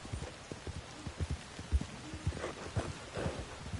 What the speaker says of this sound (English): The sound of rain in Red Dead Redemption.